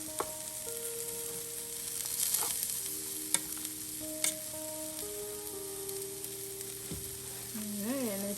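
Chicken scampi and pasta tossed in a hot pan, with steady close frying sizzle running throughout and soft stirring scrapes and clinks, no talking.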